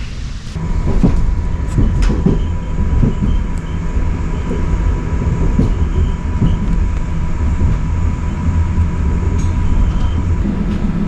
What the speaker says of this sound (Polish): Jesteśmy już w pociągu, przyspieszony pociąg kolei śląskich na trasie częstochowa Wardoń